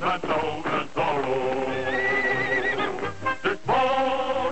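A horse in a 1950s–60s Zorro television commercial gives a long, loud whinny, rising and shaking over music, followed by snorting.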